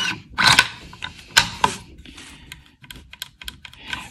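The three-position safety on a walnut-stocked Howa 1500 hunting rifle in 6.5 Creedmoor is moved, giving a few sharp, close mechanical clicks separated by quieter handling noise.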